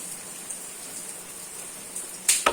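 Rain falls outdoors around a samovar, a soft, steady hiss of drops throughout, broken near the end by a couple of sharper nearby splashes or taps.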